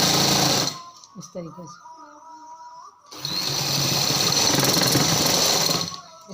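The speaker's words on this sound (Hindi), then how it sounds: "ये जो तकोन हमने ट्रायंगल बनाए हुए हैं इसकी जो निशान है वो इसके ऊपर रख के हमने स्टिच लगानी है" A sewing machine stitches a decorative design on a trouser hem, running in a loud, fast, steady whir. It stops while someone speaks briefly, then starts again for a long, even stretch.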